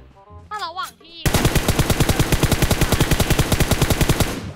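Automatic gunfire in the mobile game PUBG Mobile, a long rapid burst of evenly spaced, loud, close shots that follows a brief synthetic tone.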